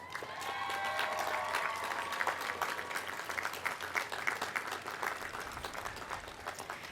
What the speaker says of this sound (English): Graduates, please look back at all of your guests and give them a well-deserved round of applause.